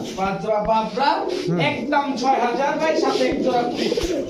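Five pairs of Babra breed pigeons coo in repeated throaty, rolling calls close by, and someone talks over them the whole time.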